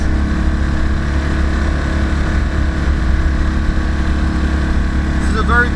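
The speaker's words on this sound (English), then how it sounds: "An exhaust that doesn't seem to have many baffles in it. It makes the most delicious noise." A Citroen Ami 6 with a 2CV engine, Weber carburettor and lightly baffled exhaust drones loudly and steadily from inside the car while driving.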